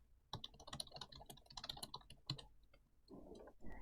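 Fingers typing a slide title on a computer keyboard during a PowerPoint exercise: quick irregular clicks and key taps in a steady burst, close and fairly quiet, followed by a short muffled shuffle near the end.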